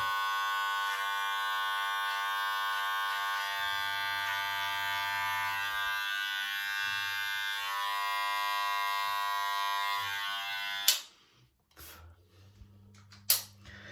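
Electric beard trimmer with a guard buzzing steadily while tidying a short beard, a close, continuous high hum that cuts off abruptly, followed by a few faint clicks.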